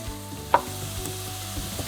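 Onions for a South African curry sizzle steadily in a pan, a constant close frying hiss with one sharp clink partway through and no talking.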